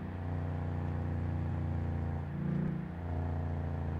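A Rolls-Royce Dawn engine in Car Mechanic Simulator 2018 hums steadily, then rises briefly in a short rev before settling back to a constant drone.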